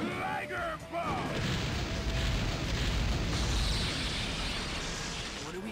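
The Raikage's Liger Bomb attack in a Naruto Shippuden game ends in a loud, sustained explosive roar with heavy rumbling that holds for several seconds after a brief shouted voice at the start.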